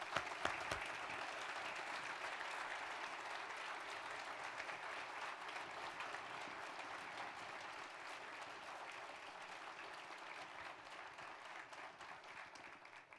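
Audience applause at a Land O' Lakes conference session, a dense steady wash of clapping from a large crowd that holds at an even level throughout, with no speech over it.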